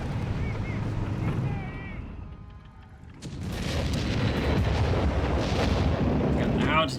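An artillery barrage in Company of Heroes 3: deep booming detonations rumble under a commentator's voice, fade briefly, then return as a heavier sustained roll of explosions and crackling impacts.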